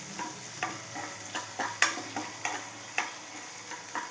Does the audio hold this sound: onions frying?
yes